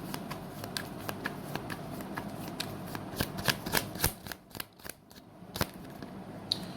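Tarot cards being shuffled by hand, a soft continuous riffling with bursts of crisp flicks and slaps, close and fairly quiet with no talking.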